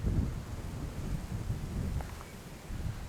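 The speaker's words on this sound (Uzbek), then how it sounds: "Ana momaqaldiroq ovozi ham bor." Low rolling rumble of distant thunder in the Chimgan mountains, swelling and fading under dark clouds, with wind buffeting the microphone and light rain.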